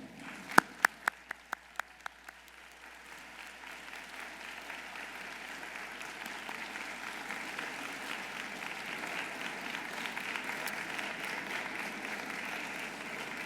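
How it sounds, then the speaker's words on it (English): A graduation audience at a medical school ceremony applauds family and loved ones, opening with a few sharp separate claps that quickly swell into steady, sustained applause from a large crowd. "give them a round of applause"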